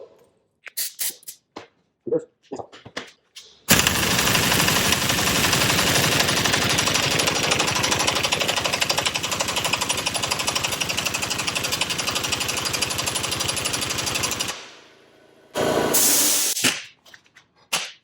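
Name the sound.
air compressor running and filling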